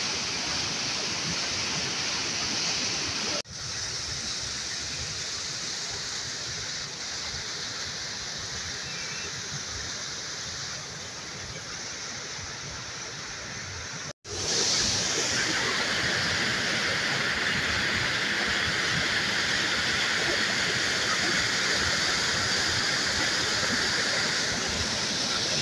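Water rushes through an old, leaking, overflowing wooden flume in Juneau, Alaska, making a constant close, loud hissing roar. It holds steady throughout, broken only by two brief dropouts.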